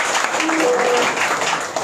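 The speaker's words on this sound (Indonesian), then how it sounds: "Tepuk tangan untuk Gus Ulil dari kita semua." Applause from an audience at a Maulid gathering in a café, a dense wash of clapping hands filling the short stretch, fairly loud and steady with a faint tone briefly under it.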